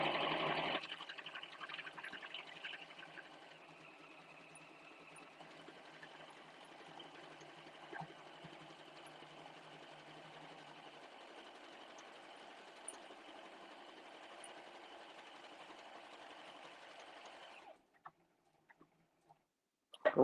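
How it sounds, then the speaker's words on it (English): An embroidery sewing machine stitching a decorative pattern, a steady fast mechanical whir and ticking hum running for about seventeen seconds at moderate level before stopping, followed by a few small clicks. "Now, if I want to sew it, I just select OK, take it out of the memory, and it'll confirm that. And then I can just sew."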